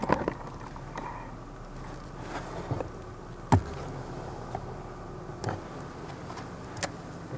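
Honey bees sit behind the division board of a hive after syrup feeding, giving off a faint, continuous hum broken by a few sharp clicks and knocks from handling.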